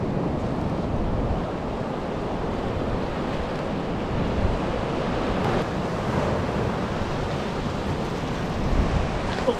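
Waves wash up on Navarre Beach on a winter night, a continuous rushing surf roar with wind buffeting the microphone, steady and fairly loud throughout with no talk.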